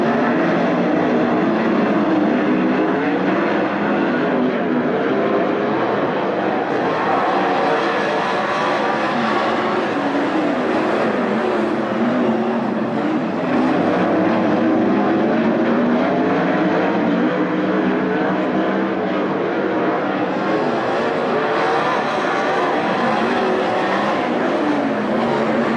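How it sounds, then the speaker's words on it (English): 410 sprint cars roar through a heat race at Attica Raceway Park, a dense, continuous high-revving engine drone from a full pack lapping, loud and unbroken for the whole stretch. "Stuart Brubaker leads lap 1 over Cale Thomas, Darren Nida, Nate Dussel, DJ Foose, Tyler Gunn, and Mike Keegan."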